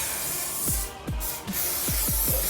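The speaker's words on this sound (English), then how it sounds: "I'm gonna spray the bun in the back of my head." Short bursts of hair spray from an aerosol can misted onto a hair bun at the back of the head, several quick hissing puffs close up, with low thumps between them.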